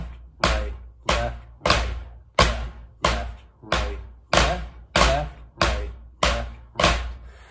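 Drum flams struck with sticks on a drum kit, right and left hands alternating, sounding as a steady series of eleven sharp doubled hits with short decays, close and loud with no talking.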